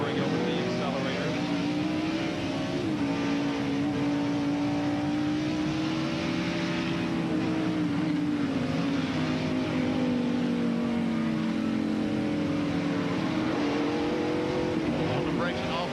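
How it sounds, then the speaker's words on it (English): Ricky Rudd's stock car at the 1994 Save Mart Supermarkets 300, heard from in-car: a loud, continuous engine roar that rises and dips steadily as the driver comes off the brakes and back onto the throttle. "Pumping the brake, getting it slowed down, and transferring over to the accelerator."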